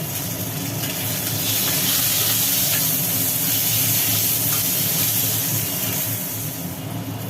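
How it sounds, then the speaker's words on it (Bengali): Pointed gourd (potol) frying in hot oil gives off a steady, bright hiss and sizzle that stays even throughout, close by and with no voices. "পটলটাও কমপ্লিট ভাজা"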